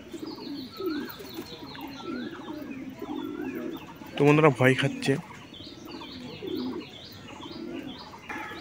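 Pigeons, with a young one feeding by itself, coo in soft, repeated low phrases from close by throughout, joined by a few chirps; a voice briefly cuts in over them midway.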